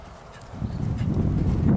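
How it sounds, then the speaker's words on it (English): A horse canters during a riding lesson, its hoof beats rising from near silence into a louder, rhythmic rumbling of clip-clops as it comes closer. "My God, what a horse."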